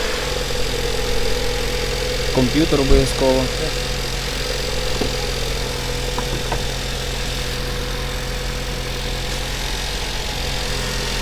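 A car engine idles steadily with a low, constant rumble while someone speaks briefly over it nearby.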